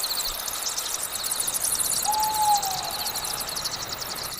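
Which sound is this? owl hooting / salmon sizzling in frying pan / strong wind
owl hooting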